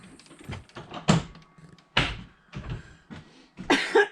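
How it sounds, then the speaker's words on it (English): A door is pushed shut in a garden setting, several knocks, bumps and clatters falling in an irregular run, fairly close, among other handling noises. "I'm gonna close the door on him."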